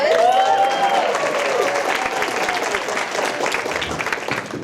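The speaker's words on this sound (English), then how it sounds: "One more round of applause." A wedding reception crowd claps and cheers loudly, with a whoop at the start, the applause holding steady throughout.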